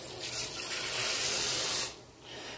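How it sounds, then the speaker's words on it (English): Hands rinsed under a running kitchen tap while cooking hamburger steaks: a steady, close hiss of flowing water for nearly two seconds, then a quieter trickle. "Let's rinse my hands off."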